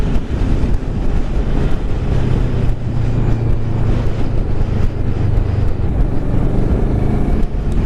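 A stock 2016 Kawasaki Ninja 650 motorcycle rides at speed, its engine droning continuously beneath heavy, loud wind rush buffeting the microphone, with no talking.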